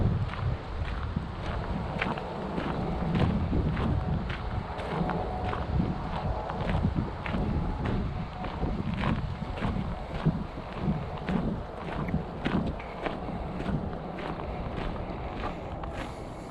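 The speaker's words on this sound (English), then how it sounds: "there's a wind kicking up too." Steady wind blows across an outdoor nature preserve walk in November, rumbling and buffeting the microphone continuously, with scattered rustles and footsteps mixed in and no talking.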